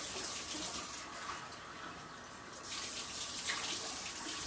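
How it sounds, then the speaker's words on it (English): Water from a measuring cup is poured into a pot of basmati rice, a steady close splashing pour with no talk. "to that, I'm going to add 2 cups of water"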